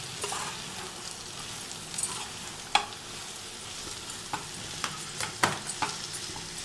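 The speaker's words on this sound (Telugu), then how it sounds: "బీరకాయ ముక్కలు కలిపేసుకుందాం తాలింపులో" Ridge gourd pieces stirred into a hot tempering with ginger and turmeric, a steady sizzle of frying under scattered sharp scrapes and clinks of the spoon against the pan, close and fairly quiet, with no talking.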